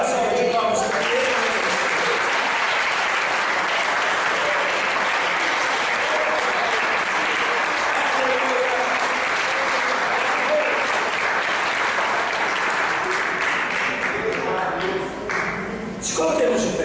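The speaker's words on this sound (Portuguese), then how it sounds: "Dê a melhor salva de palmas para Ele." Church congregation clapping in sustained, loud, dense applause that fills the room, continuing evenly throughout with a slight dip near the end.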